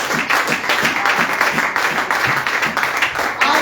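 A church congregation applauds together, steady dense clapping with a rhythmic pulse filling the room, loud and continuous with no talk over it.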